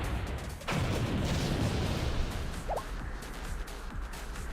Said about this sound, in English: Explosions and chaos away.